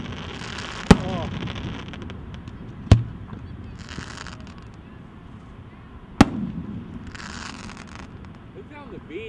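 Fireworks explode over an ocean beach on the Fourth of July, three distinct sharp bangs spaced a few seconds apart amid a low background of people talking and cheering.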